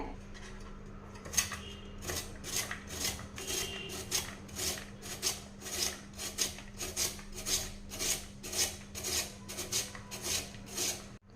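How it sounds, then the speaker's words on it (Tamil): Potatoes rubbed against a hand grater in steady, rhythmic rasping strokes, about twenty close, even scrapes in a row with no talking. "இதில் வச்சு நல்லா துருவி எடுத்துக்கலாங்க"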